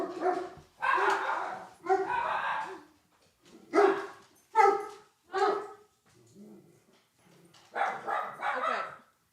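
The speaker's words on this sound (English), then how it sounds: "There's some dogs loose outside." Dogs loose outside bark repeatedly, a series of loud close barks in irregular bursts with short pauses between them.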